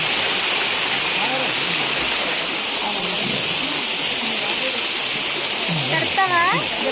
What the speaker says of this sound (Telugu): పైనుంచి గుహ నుంచి కిందకి వాటర్ పడుతుంది